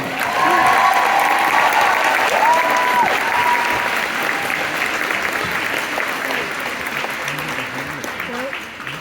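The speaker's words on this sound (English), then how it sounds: "Give them a round of applause." Loud, sustained applause and some cheering from an audience for a sixth-grade school band at a winter concert, dense clapping that tapers gradually, with voices and a few whoops mixed underneath.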